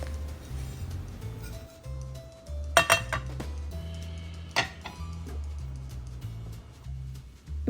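Cumin seeds are dry-roasted in a pan and stirred without pause, giving light metallic scrapes and clinks from a spoon against the pan, with a couple of sharper knocks over a low steady hum.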